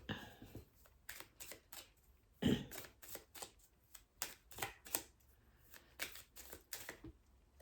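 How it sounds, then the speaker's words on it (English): A deck of soul expression oracle cards is shuffled and a card drawn, crisp riffling bursts and snapping card flicks in quick uneven clusters, close and fairly quiet with no talking. "I'm also going to pull a soul expression card,"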